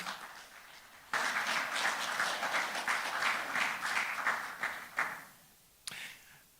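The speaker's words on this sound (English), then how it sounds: "You need to give yourselves a big round of applause." Audience applause in a community gathering bursts in abruptly, a dense steady clapping that holds for several seconds before thinning out, with faint murmur before it starts and a last few scattered claps.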